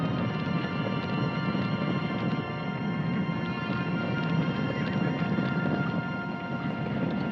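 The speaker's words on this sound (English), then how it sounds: "It's the last big horse roundup you'll see in these parts." Hundreds of horses driven in a big roundup on open range, a dense, continuous drumming of hooves at moderate distance, steady throughout with no talk.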